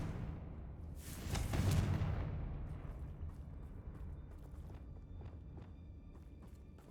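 A Confringo fire spell from Hogwarts Legacy goes off as a single loud whooshing blast that swells and fades over a couple of seconds, trailing into a low rumbling ambience with faint ticking.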